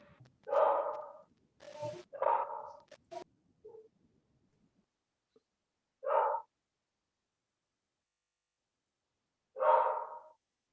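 A dog barks in separate bursts, a cluster of close, full barks early on and then two lone barks spaced several seconds apart, with quiet gaps between them and no talking.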